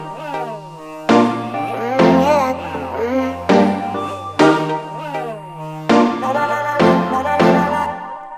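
Synth flute lead from the Electrax plugin in Logic Pro X playing a dancehall-style melody with sliding, bending notes over repeated low bass hits in a steady rhythm, clear and up front with no voices.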